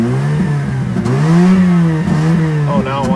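A Mazda RX-8 rotary engine with a blown EGI fuse and other faults catches and revs unevenly, its pitch rising and dipping over a few seconds with clattery starts, loud and close.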